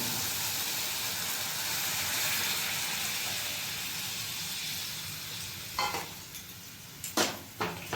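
Bottle gourd kofta curry simmering with a steady bubbling sizzle after strained gourd water is added, followed near the end by a few sharp clinks and scrapes of a spoon stirring in the pan.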